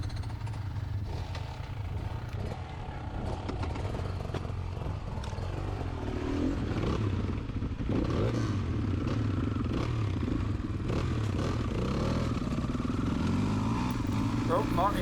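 Motorcycles on a road run pull away with engines held flat out, a steady continuous drone and rising rev sweeps over rumbling low noise, with people talking over it.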